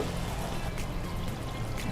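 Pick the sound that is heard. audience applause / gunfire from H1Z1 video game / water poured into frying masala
water poured into frying masala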